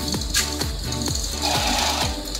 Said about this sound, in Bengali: তখনই মেশিন একটা পেজ বের করে দেবে, অর্থ সাদা ব্লাঙ্ক ব্লাঙ্ক পেজ বের করে দেওয়ার পরে